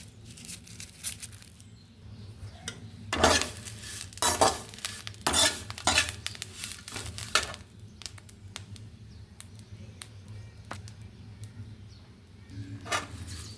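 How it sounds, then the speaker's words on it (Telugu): Curry leaves frying in a pan while a spoon stirs and scrapes, with irregular bursts of clattering metal over a steady low sizzle, close up and with no talking. "ఆకు అనేది ఈ గ్రీన్నెస్ పోకుండా వేయించుకోవాలండి."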